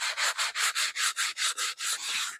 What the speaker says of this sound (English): we're just going to use 80 grit sandpaper